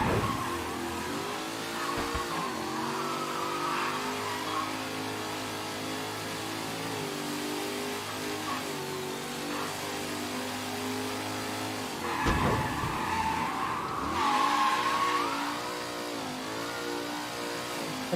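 A fast car in the Mafia III video game roars as it accelerates, its engine note rising and falling steadily, then a tyre skid squeals near the end, loud and close with no talk.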